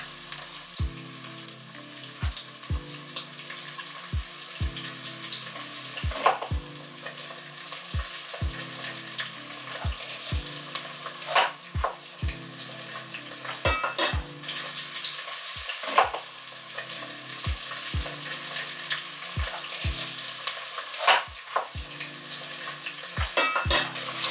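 Shrimp and squid stir-fried in a wok with black bean sauce, a steady loud sizzle broken by repeated clanks and scrapes of a spatula tossing the pieces, with no talking.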